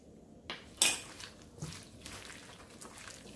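Gochujang pork bulgogi marinade with oyster sauce, oil and toasted sesame being mixed by hand in a bowl, giving a couple of sharp clinks against the bowl followed by soft, quiet squishing and rustling.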